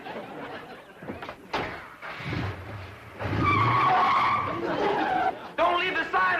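A car pulls away with tires skidding and squealing, and the engine grows louder as it drives off in a 1960s sitcom scene, with voices talking over it.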